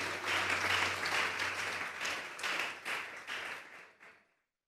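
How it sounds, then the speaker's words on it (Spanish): A church congregation applauds during a Sunday service, with dense, sustained clapping that fills the room. It stays loud and then tapers off, ending in silence. "Dele fuerte el aplauso si se lo va a dar al Señor."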